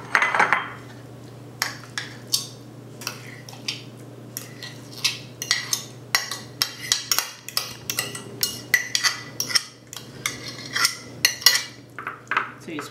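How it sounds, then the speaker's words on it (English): Metal utensils clink and scrape against a baking tray and dishes as food is moved into it, a steady run of sharp close taps and clatters over a low constant hum. "So I have a baking tray that I'm going to be putting this in."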